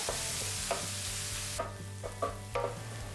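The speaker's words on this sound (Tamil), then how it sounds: "சேர்த்துட்டு வெங்காயம் வந்து நல்லா வதங்கட்டும்." Onions sautéing with a little salt in a pan for a Tamil puli kulambu, a steady close sizzle with a few soft spatula stirs and scrapes tapping through it, no voices.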